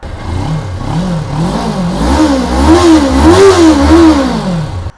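A Kawasaki Ninja 400 High Grade motorcycle engine revs loudly and close up, rising and falling in repeated waves of throttle for about five seconds. No one speaks.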